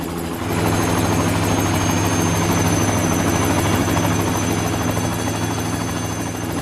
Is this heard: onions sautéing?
no